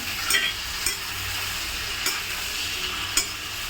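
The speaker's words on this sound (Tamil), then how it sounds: "உருளைக்கிழங்கு போட்டு தக்காளியும் போட்டு கொஞ்சம் நல்லா வதங்கினதும்" Potatoes and tomatoes sauté in a pan, a continuous close sizzle broken by a few sharp scraping stirs of a utensil spaced through the clip.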